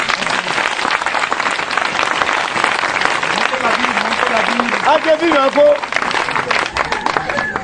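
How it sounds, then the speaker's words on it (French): A church congregation applauds and cheers in acclaim of Jesus Christ, with dense sustained clapping and raised voices and shouts filling the room. "Est-ce qu'on peut acclamer Jésus-Christ?"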